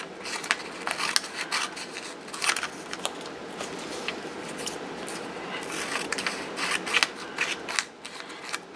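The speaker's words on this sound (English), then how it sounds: "Let's just cut out another E and I'll show you what I'm talking about." Scissors snip through paper to cut out a letter E for ransom-style lettering, a steady run of close, crisp cutting and rustling sounds with no talk.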